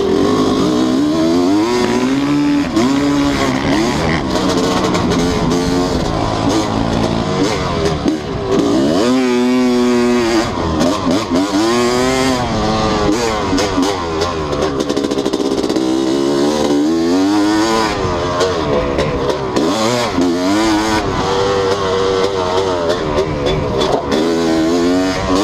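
A Honda CR250 two-stroke motocross bike runs loud and close, its engine rising and falling in repeated revving sweeps for the whole stretch, with a faint voice now and then.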